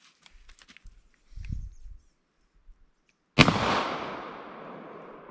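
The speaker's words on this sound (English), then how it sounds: "This is the number 2 buck, and we're going to put 3 shots across the chronograph" A Mossberg Shockwave fires a single loud, close blast of 20 gauge #2 buckshot that rings out in a long decaying echo, preceded by faint clicks and rustling handling noises.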